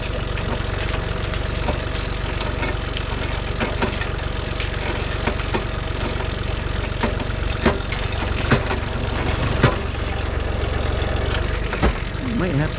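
A John Deere 3046R compact cab tractor fitted with a grapple runs at a steady, loud low rumble throughout, with occasional clicks and knocks over the drone and someone talking now and then.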